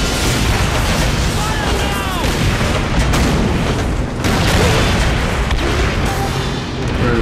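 Explosions destroying a bunker in the World War II shooter Call of Duty: World at War, dense booming blasts and gunfire filling the whole stretch with loud continuous battle noise.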